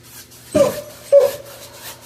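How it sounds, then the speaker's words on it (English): Dogs barking indoors in the background, two short sharp yips about half a second apart, moderately loud over a quiet room, with no talk. "I apologize for the dogs barking."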